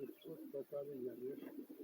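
A large racing pigeon coos softly in a loft, a few low, rolling throaty calls heard close but faint.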